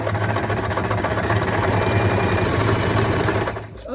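A sewing machine stitches a bag in a loud, steady, close mechanical hum with rapid rhythmic clatter, running without pause almost to the end.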